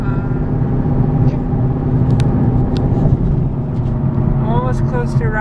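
Car interior on the road toward Tucson, with a steady engine and road rumble throughout, close and continuous, and music playing faintly inside the cabin.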